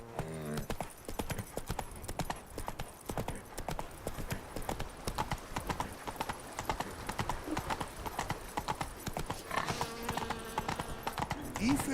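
Horse hooves clip-clop steadily throughout in The Witcher 3: Wild Hunt, with an occasional neigh, mixed among game sounds and character voices talking over it.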